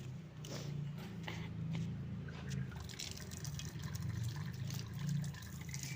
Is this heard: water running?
yes